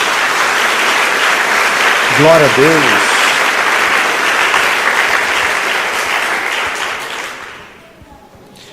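Congregation at a Portuguese-speaking church service breaks into sustained, loud applause, joined by a voice calling out praise partway through; the clapping carries on steadily before fading toward the end.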